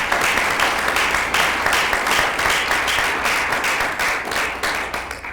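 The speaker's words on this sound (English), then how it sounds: "Let's give her a round of applause." A round of applause from the audience at a county commission candidate forum, dense steady clapping that carries on for several seconds with no talk over it.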